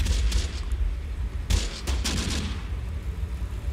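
Gunfire crackles through a battle in the WWII strategy game Close Combat: The Bloody First, with a steady low rumble and a few sharp distant shots that stand out about halfway through.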